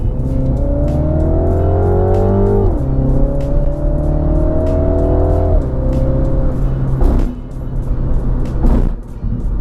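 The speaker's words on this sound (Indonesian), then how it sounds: "Nah ini sekarang kita coba rolling sambil loud." A Mini Cooper John Cooper Works accelerates hard in a rolling launch, its engine rising through loud, close revs with several upshifts and brief dips between gears.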